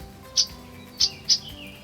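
Downy woodpecker giving three sharp, high call notes, the first alone and the last two close together, clear and near against a quiet background.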